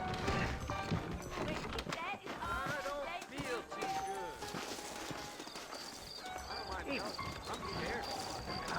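Horses whinny and hooves clop in a busy, layered mix from the video game Red Dead Redemption, with voices talking over it.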